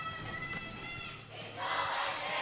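A crowd of fans at a League of Legends esports match in the LCK Summer Split roars and cheers, the noise swelling after a moment of shouting voices and staying loud to the end.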